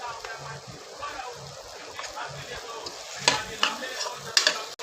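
Curry leaves sizzle in hot oil while rice with peas cooks, a steady crackling fry with a few sharper pops and spits toward the end, close and moderately loud, with faint talk in the background.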